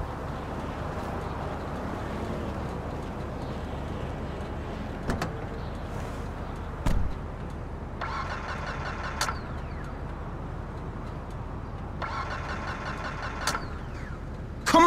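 In the video game GTA 5, a car engine cranks but fails to start, with repeated grinding starter bursts and mechanical clunks over a steady background hum.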